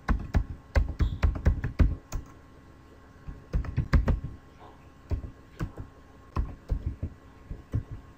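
Clicky computer keyboard typing while entering data into a loan amortization spreadsheet, quick bursts of keystrokes separated by a short pause, close and moderately loud.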